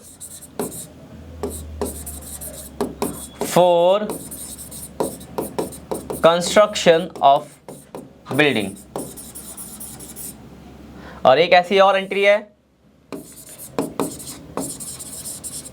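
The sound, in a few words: teacher writing journal entries on a board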